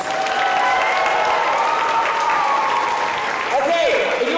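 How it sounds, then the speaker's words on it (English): Dense, loud applause from an award show audience for the event crew, a sustained wash of clapping that holds steady throughout, with some murmured voices and a faint tone near the end. "Let's give our entire SECC crew a giant round of applause"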